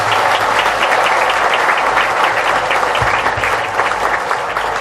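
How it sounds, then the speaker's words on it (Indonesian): Sustained, steady applause from an audience at an Islamic religious gathering honoring two guests, a dense even wash of many hands clapping throughout. "Aplaus untuk tamu kita berdua."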